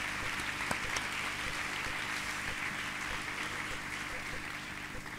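A sports gala audience gives a dense, even round of applause for Leo Cuarteto, a continuous wash of clapping with a low hum beneath, steady and moderately loud throughout.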